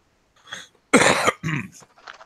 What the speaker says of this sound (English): Didn't mean to cough there.